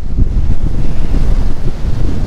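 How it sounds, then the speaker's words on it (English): Strong wind roars across the microphone at the Surfside jetty in Freeport, with big rough waves crashing and washing. The noise is loud and steady throughout, and no one speaks. "very rough, very windy"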